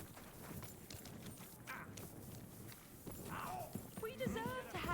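Horse hooves clip-clop in the medieval video game Kingdom Come: Deliverance 2 as a close, steady walking rhythm, joined near the end by whinny-like tonal calls, while someone talks over it.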